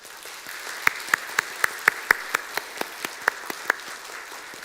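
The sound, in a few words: congregation applauding to encourage a newlywed couple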